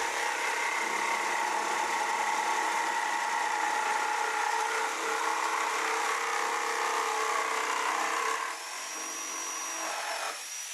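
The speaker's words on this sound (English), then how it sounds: "I also switched to my jigsaw," A jigsaw cuts through deer antler held in a vise, giving a steady loud buzzing whine with a gritty rasp that runs unbroken for about eight seconds, then drops in pitch and level near the end.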